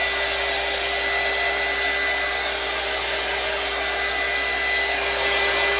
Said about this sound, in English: my little dryer here.